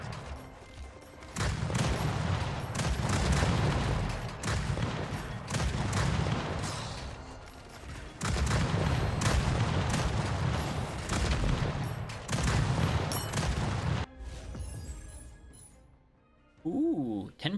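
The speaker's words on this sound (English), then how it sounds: "More things for me to fire rockets at?" Dense, sustained gunfire and rocket explosions in the shooter game R.I.P. Reincarnation Insurance Program, loud continuous barrages with brief dips, fading to quieter effects near the end.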